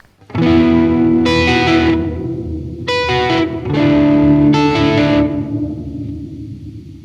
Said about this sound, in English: this is almost like a subsonic reverb